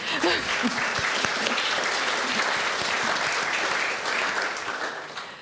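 Audience applause at the opening event of a peace forum, a dense, steady crowd clapping that holds at an even level throughout the short stretch before tapering slightly at the end.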